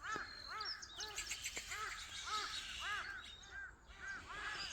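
Birds call around rural land backed by low woods, with a steady run of repeated, arched, nasal calls that come close together, plus a few fainter chirps in a quiet outdoor setting.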